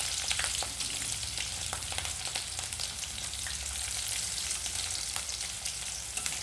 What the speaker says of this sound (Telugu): పచ్చిమిర్చి, ఉల్లిగడ్డలు వేస్తున్నాను.